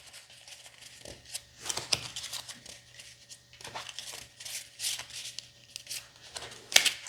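Playing cards are handled and shuffled on a table, with soft, irregular papery riffles, slides and flicks close by, and a quiet voice speaking now and then.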